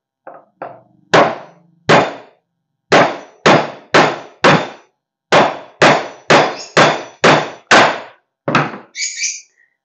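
A hammer drives a nail into very hard peroba wood: about a dozen sharp, ringing blows in an uneven rhythm with short pauses, close and loud, with no voices.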